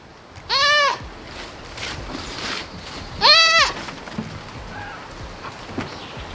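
Goats bleat twice, two loud, close, wavering cries about three seconds apart, with quiet farmyard rustling and faint sounds in between.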